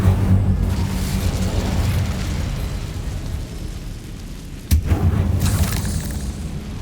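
Incendio fire spell blast in the Hogwarts Legacy video game: a deep rumbling boom at the start, then a sharp burst near the end, loud over steady low game ambience.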